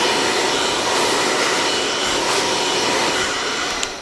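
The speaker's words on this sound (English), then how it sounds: "really just running that hairdryer across" A hair dryer blows steadily and loudly while being run across hair during a live haircut, a constant broadband whoosh held for the whole stretch with no voices.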